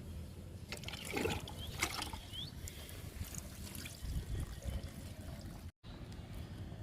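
Liquid fertilizer is poured onto a garden plant, making a soft, close trickle with small splashes and gurgles against a quiet outdoor background.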